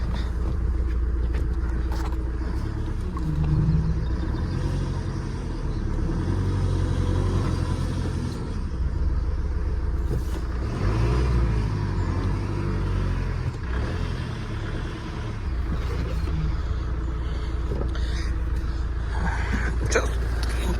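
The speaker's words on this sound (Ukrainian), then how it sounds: "Моторчик працює хорошо." A Mitsubishi L200 pickup's engine idles steadily with a low, continuous rumble that holds level throughout, recorded close by outdoors with no talking.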